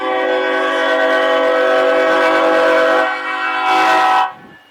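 A Norfolk Southern freight train blasting its very loud horn, a sustained, steady harmonic blare held for about four seconds before cutting off, with rumble from the passing train beneath.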